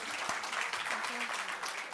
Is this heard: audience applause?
yes